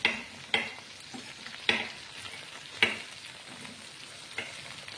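Bitter gourds frying in a pan for a spicy Konkani GSB dish, stirred with a ladle: steady soft sizzling broken by several loud, sharp scraping strokes at irregular intervals, close and clear with no speech.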